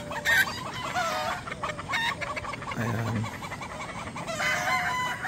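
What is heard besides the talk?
chickens clucking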